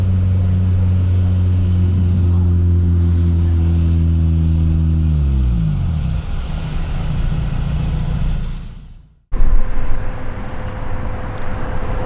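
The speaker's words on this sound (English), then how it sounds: "now on pit lane, there's about a dozen cars that are ready to go" About a dozen race cars wait on a wet pit lane at Watkins Glen, engines idling in a deep steady drone, then pitch shifts and revs build into a louder roar.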